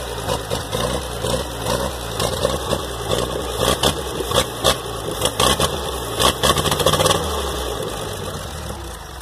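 A Flathead engine runs in a junkyard setting with a steady low mechanical rumble, uneven clattering pulses and occasional sharp knocks, close and fairly loud, with no talking.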